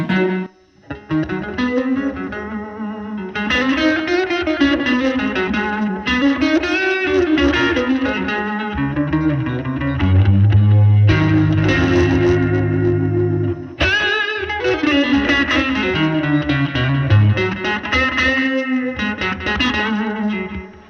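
Electric guitar through a Blues Power overdrive pedal into a Princeton amp, played continuously with chords and bluesy single-note lines, a warm distorted tone and some reverb, loud and close.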